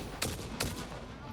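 Gunfire from a weapon in the factory-building game Satisfactory: two sharp, quiet shots about 0.4 seconds apart, over a low background hum.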